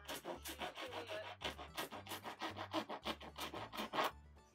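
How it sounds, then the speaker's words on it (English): A wood rasp smoothing the corners of a wooden kitchen counter makes close, rhythmic rough scraping strokes, repeating about every half second. "found this nice wood rasp in my things"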